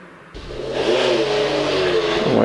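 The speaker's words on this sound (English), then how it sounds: "Emma Ali makes her way up the hill in the Mazda MX-5, coming into Pardon" Mazda MX-5 on a Prescott hillclimb run, engine bursting in suddenly and revving hard in a sustained, rising snarl, close and loud with no talk.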